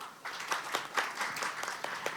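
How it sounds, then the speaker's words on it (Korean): An audience at an energy research conference claps for two presenters, a steady patter of many hands, moderately distant and fairly soft, lasting the whole stretch. "두 분께 큰 박수 부탁드립니다"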